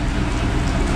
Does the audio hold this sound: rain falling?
yes